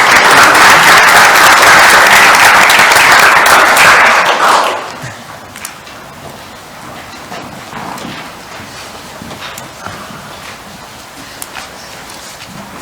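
A round of applause breaks out at a city council meeting in Grand Forks, loud and steady for about four seconds before fading into quiet room noise with scattered small thumps and rustles.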